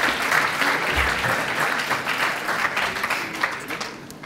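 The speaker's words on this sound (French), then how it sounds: "Merci beaucoup, on l'applaudit." A crowd at an awards ceremony claps steadily for a few seconds, bright dense applause at moderate volume that tapers slightly toward the end.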